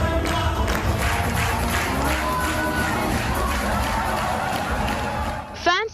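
Fans at an RRR screening in Los Angeles create a loud, continuous crowd roar of cheering, whooping and clapping, dense and sustained, ending with a brief rising whistle-like shout.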